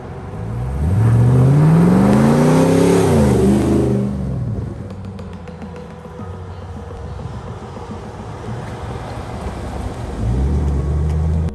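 A GM 6.2-liter LS3 V8 in a custom Land Rover Defender 110 revs up loudly nearby, its pitch climbing and falling, then settles into a rumbling idle before revving again briefly.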